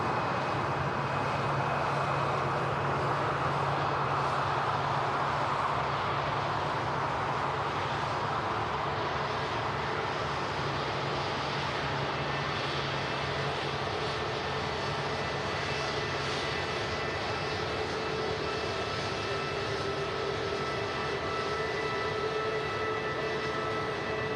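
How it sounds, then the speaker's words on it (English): Scandinavian Airlines A320neo jet at Manchester Airport, a steady loud engine roar that holds for the full length, broadband rumble with a faint whining tone, no talk. "And here we go, the Scandinavian Neo"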